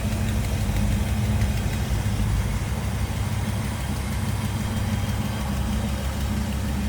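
A 1962 Austin-Healey roadster replica, the Sebring MX built by Classic Roadsters, fitted with an Edelbrock four-barrel carburetor and Performer intake manifold, idles in a steady, smooth, close rumble throughout.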